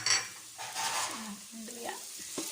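Ginger sizzling as it sautés in a pan, a short, fairly quiet burst of frying hiss with a stir and faint utensil clinks near the start.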